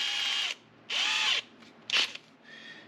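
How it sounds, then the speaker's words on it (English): A small power drill whirs in short bursts close by, drilling a small pilot hole for a tow hook on a 2022 Subaru WRX, spinning up and stopping several times with brief pauses between runs. "So we're going to take the small drill bit"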